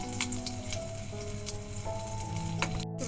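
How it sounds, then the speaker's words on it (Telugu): Crushed garlic dropped into hot oil for tempering dal gives a steady, crackling sizzle with occasional pops, close and continuous, with no voices. "ముందుగా వెల్లుల్లి వేసుకోవాలి."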